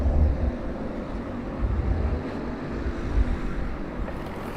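Go-kart engines at full throttle as a pack of racing karts run down the straightaway at Adams Motorsports Park, a steady droning roar with slight swells, heard from a distance with wind buffeting the microphone.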